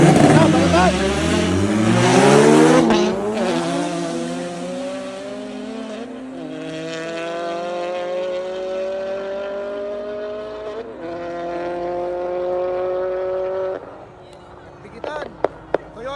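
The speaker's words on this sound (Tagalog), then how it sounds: "So Toyota 86 versus Honda SIR. Open turbo category tayo." Toyota 86 and Honda SIR turbo cars in an open turbo drag race, engines roaring hard off the line and climbing through the revs, loud and close, then sustaining a high whine before cutting away, with voices faintly underneath.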